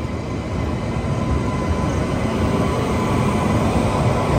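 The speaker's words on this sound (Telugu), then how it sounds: "Yes, goods క్యారియరే." An automobile carrier goods train thunders past close by at a railway station platform, a dense, unbroken roar of wheels and wagons without any voices.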